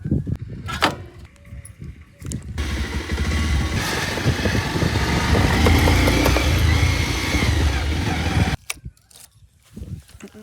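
A motorcycle engine roars close by for several seconds, then shuts off suddenly, with a few scattered knocks before and after.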